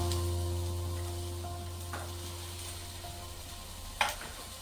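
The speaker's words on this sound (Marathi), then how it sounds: "आता ह्याच्यामध्ये मी कांदा टाकून घेते. कांदा थोडासा लाल करून घेते." Onion frying in a pan for a cauliflower and egg dry curry, a steady moderate sizzle that slowly fades, broken by a few quick scrapes of a stirring utensil.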